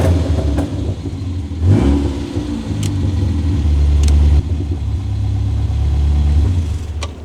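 A drift-prepped car engine runs loud and close with a steady low rumble, rising into a brief rev before settling back to a rough idle, with no voices.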